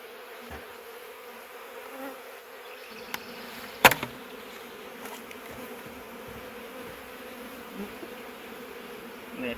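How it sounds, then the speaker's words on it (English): Honeybees buzz steadily around an open hive during swarm-prevention work, a continuous close hum with a brief sharp knock partway through and no speech. "A little bit of smoke to get the bees off the edge here."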